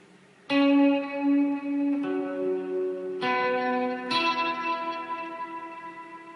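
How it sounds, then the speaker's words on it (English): Electric guitar plays four sustained chords with a tape-style delay, each repeating and trailing off softly behind the next. "And with the delay, it sounds like this."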